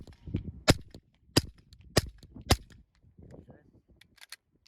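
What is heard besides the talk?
suppressed pistol shots with Rex Silentium MG7 suppressor, subsonic Federal ammo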